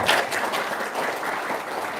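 Audience applause at a talk about grocery trading, a dense, even wash of clapping from a seated crowd at moderate volume, steady for the whole stretch with no voices on top.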